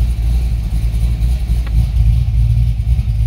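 A cammed LS3 V8 in a C6 Corvette drones with its mufflers open, a loud, steady low rumble from inside or near the moving car, with no voices.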